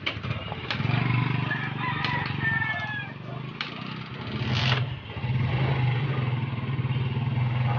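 Suzuki Smash 115 motorcycle engine idling with a low, steady hum while a rooster crows nearby and other birds call over it.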